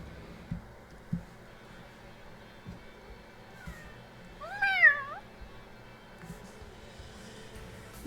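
Cats meow indoors, one clear drawn-out wavering meow at mid-distance amid faint background sounds and a few soft thumps, otherwise quiet.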